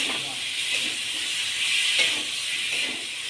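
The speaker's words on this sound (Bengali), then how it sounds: "এবার মশলাটার সাথে ঝিঙেটাকে ভালো করে কষিয়ে নেব।" Ridge gourd pieces stirred and sautéed with spice paste in a pan, making a continuous close, steady hiss and sizzle that swells slightly midway.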